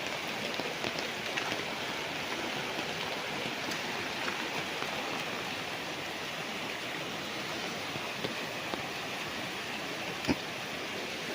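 A river flows beside a farm lot in Nagcarlan, Laguna, giving a steady, dense rushing wash of water with no pauses, close and continuous.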